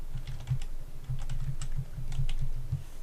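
Rapid typing on a computer keyboard as a phone number is entered, a close, irregular patter of keystrokes with no voices.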